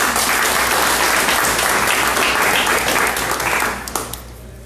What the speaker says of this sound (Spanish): Muy bien, otro aplauso para